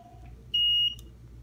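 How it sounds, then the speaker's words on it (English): A single electronic buzzer sounds during a servo positioning test, one steady high-pitched tone lasting about a third of a second, fairly loud against a faint background hum. "I think the buzzer will go off"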